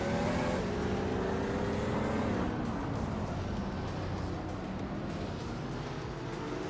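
Steady engine drone from a 1970 Porsche 914-6 racing car in a video game race, holding a continuous loud mechanical hum with faint pitch shifts throughout, no voices.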